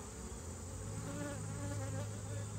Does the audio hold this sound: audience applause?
no